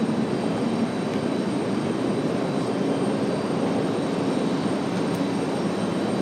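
A Breeze Airways jet airliner moving out at Raleigh-Durham airport, a steady, close engine drone with a constant hiss that holds at even loudness throughout, no voices.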